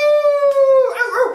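A single loud, close wolf howl, one long steady rising-then-falling note that breaks into a rougher trailing cry, used as an intro for a werewolf movie review.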